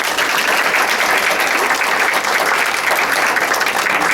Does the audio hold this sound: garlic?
no